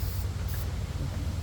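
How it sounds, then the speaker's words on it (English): Aerosol spray from a can misting over car battery terminal clamps during a Nissan Altima battery replacement, a short continuous hiss over a low background hum. "we're just going to spray it over the clamp downs"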